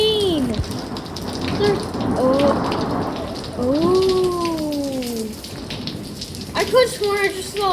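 Steady rain falls with a constant hiss throughout, while voices with cat-like rising and falling tones run over it.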